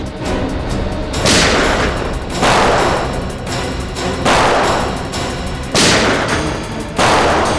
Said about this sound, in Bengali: এখানে ফায়ারিং হচ্ছে